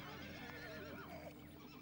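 A wild horse herd in the Amazonian marshes, with several overlapping neighs and whinnies rising and falling, fairly faint over a low steady background hum.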